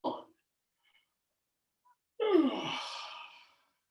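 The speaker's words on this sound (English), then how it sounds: "Yawn." A single drawn-out yawn, close and fairly loud, rises from a voiced, falling groan into a breathy exhale over about a second and a half, after a short breath and near silence, during a guided relaxation movement session.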